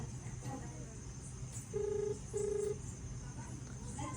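Two steady electronic ringing tones, each about a third of a second, sound one after another over a low background murmur.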